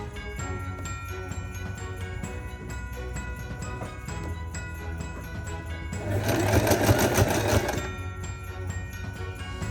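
A sewing machine runs a single line of zigzag stitching on narrow trim for a Christmas cat bed. It gives a steady, close mechanical whir with rapid rhythmic ticking that grows louder and busier for a couple of seconds near the end.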